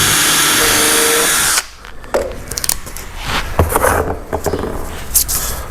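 A power drill drives screws into a wooden shipping crate, opening with a loud, steady whirring burst for about a second and a half, followed by quieter scrapes and knocks of wood being handled close by.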